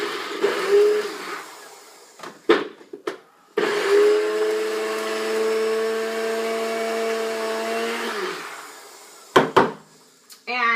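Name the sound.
NutriBullet blender grinding almonds into almond flour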